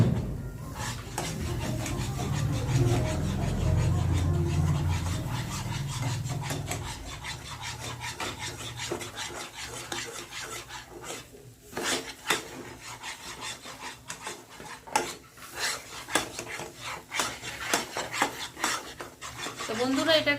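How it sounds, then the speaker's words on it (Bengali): A spoon scrapes and rubs through a sweetened green pea filling in a pan, with a rough, irregular stirring rhythm that gets choppier as it continues. "এটাকে নাড়তে হবে, না নাড়লে কিন্তু তলাটায় ধরে যাবে।"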